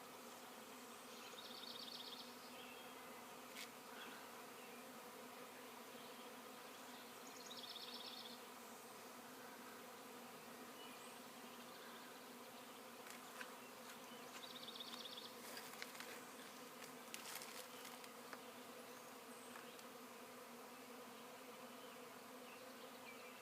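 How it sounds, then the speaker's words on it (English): Honeybee swarm buzzing around a swarm trap, a deep 10-frame box set near trees outdoors, heard as a faint, steady insect drone with a few short louder passes of bees flying close. "I could hear what sounded like buzzing, so I was looking around for a swarm"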